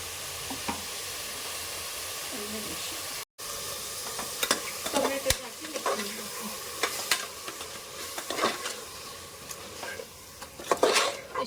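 Tomato puree goes into a hot pan of sizzling oil and spices for mushroom biryani, with a steady frying hiss, a short break, then scraping stirs and clinks of a spoon against the pan.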